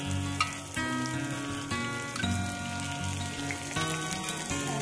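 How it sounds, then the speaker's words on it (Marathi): Curry leaves frying in hot oil for a spicy potato filling, giving a steady close crackling sizzle with small pops and no voices. "कढीपत्ता थोडासा फ्राय करून घेऊया छानपैकी।"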